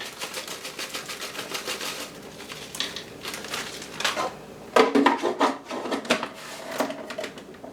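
Busy, irregular clattering and rattling of hard dry stuffing cubes being ground into crumbs in a food processor, with louder bursts midway.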